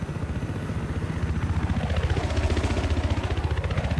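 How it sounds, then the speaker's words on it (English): Helicopter in the Battlefield 4 video game banking through a turn, a steady low rotor throb pulsing rhythmically with a swelling whine, heard alone and growing slightly louder. "when this helicopter turns, it sounds awesome"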